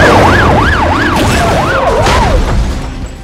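Ambulance siren in the Call of Duty Modern Warfare 3 video game, a loud, close wailing tone sweeping rapidly up and down in repeated cycles before fading out at the end.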